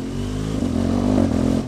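A BMW GS motorcycle engine idles close by, a steady low throbbing rumble with a slight swell in the middle, alone without talk.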